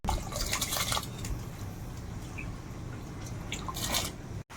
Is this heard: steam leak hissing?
no